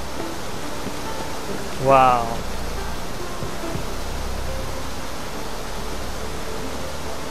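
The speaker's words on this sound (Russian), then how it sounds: "Я слышу где-то водопад." Steady rushing water noise from a waterfall in the video game The Witcher 3: Wild Hunt, distant, runs throughout; a person briefly exclaims partway through.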